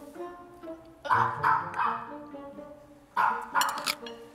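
A hungry dog barks in two short bursts of several sharp yips each, fairly close, with quiet gaps between.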